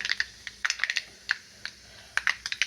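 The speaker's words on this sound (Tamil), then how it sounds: "வாணலியில் எண்ணெய் காஞ்ச உடனே கடுகு பொரிய ஆரம்பித்ததுக்கப்புறம்" Mustard seeds spluttering in hot oil in a wok, a series of sharp close pops and crackles, some in quick clusters and others spaced apart, heard alone.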